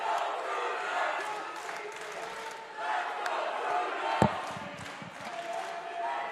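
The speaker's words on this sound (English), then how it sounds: "Listen to this crowd echoing from side to side with chants of Cupcakes and Bruno." Arena crowd at a Cage Titans MMA event, a steady roar of voices echoing through the hall with chant-like swells, plus one sharp thump near the end.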